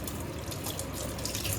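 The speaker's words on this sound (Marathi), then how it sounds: "आता पाण्याने धुवेन" Tap water runs over hands to wash off mehndi, a short, steady close splash and trickle into a sink with no voices.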